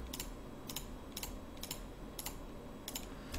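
Quiet, faint keystrokes on a computer keyboard during 3D modeling work, coming in short clusters at an even rhythm over a low background hum.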